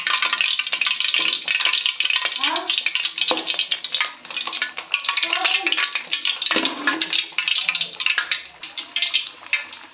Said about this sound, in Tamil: இந்த பக்கம் வடை சுட்டுட்டு இருக்கோம்.